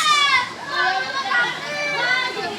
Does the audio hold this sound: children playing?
yes